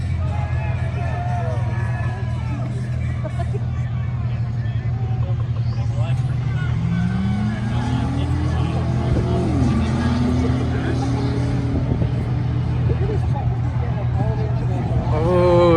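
A diesel truck drag races a BMW SUV at a spectator drags event, its loud engine droning steadily up close and rising in pitch as it pulls, with crowd noise and chatter underneath.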